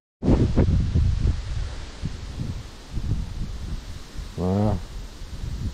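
Strong autumn wind blows along the Emajõgi river during bottom fishing, buffeting the microphone in loud irregular gusts, with a brief tonal squeak near the end and no talk.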